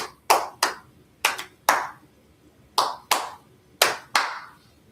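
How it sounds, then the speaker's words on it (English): A pair of hands claps nine times in uneven bursts, each clap sharp and close with a quick decay into a quiet room. "That's the clap I got for you."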